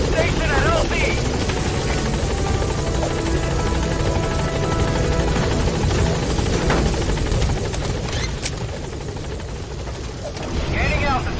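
The Pequod helicopter arrives at a landing zone in the video game Metal Gear Solid 5. Its loud, steady rotor drone fills the whole stretch, mixed with rattling bursts of gunfire and a radio-style voice.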